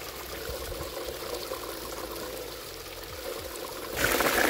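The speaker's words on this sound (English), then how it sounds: "a lot of the water shoots out the sides and thus reduces our flow rate" Water gushes and splashes from a homemade powered gold sluice box, a steady rushing flow with some low gurgling, growing louder and brighter near the end, with no talk.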